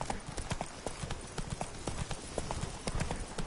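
Roach the horse walking in The Witcher 3: Wild Hunt on PlayStation 4 Pro, close, evenly paced hoof clip-clops continuing throughout at moderate loudness.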